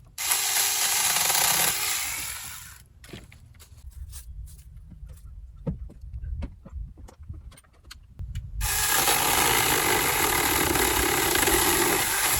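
A Saker mini electric chainsaw whines at high speed, then bogs down and crackles while cutting through walnut limbs outdoors by a hayfield, with scattered snaps and knocks before the motor revs loudly again near the end.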